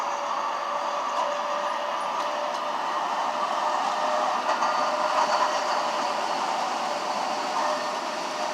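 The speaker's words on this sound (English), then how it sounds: "The trains just go straight through because there's no light there." A train rolls steadily through an unsignalled level crossing near Ruggles and Huntington Ave, a continuous rumbling wheel-and-rail roar with faint rhythmic clacks, sustained and fairly close, no talking.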